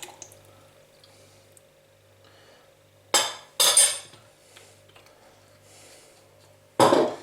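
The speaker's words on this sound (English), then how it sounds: "all I'm doing there is just mixing it all together" BBQ sauce ingredients, including white wine vinegar and Worcestershire sauce, being stirred together in a dish, heard as a few brief, close clinks and wet scraping sounds separated by quiet gaps.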